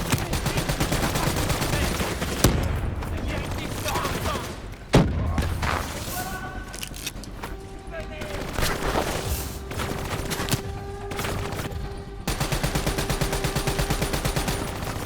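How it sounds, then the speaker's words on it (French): Turret gunfire in the Call of Duty: Black Ops 3 campaign, sustained bursts of shots mixed with a sharp nearby blast, game effects and a steady tone running under the dense combat noise throughout. "Si tu veux t'amuser un peu, tu peux utiliser le détournement sur ces tourelles."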